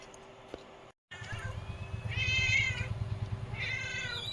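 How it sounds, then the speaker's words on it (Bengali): Cats come into a kitchen where fish is being cut and give two clear, close meows, one after the other, over a low background hum. "বিড়ালগুলো এসে ডাকছে"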